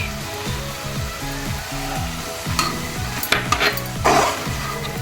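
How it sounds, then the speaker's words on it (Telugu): Cluster beans with onion, garlic and grated coconut are fried in a pan and stirred steadily, with a constant sizzle, rhythmic scraping strokes and a few sharp utensil clinks against the pan. "చివరిగా కొబ్బరి వేసుకొని ఒక టూ మినిట్స్ వేయించుకుంటే"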